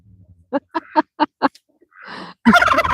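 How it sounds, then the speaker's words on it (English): Several short rhythmic gobbling calls in quick succession, followed by a hiss and then a loud burst of honking or quacking. "There go the ducks."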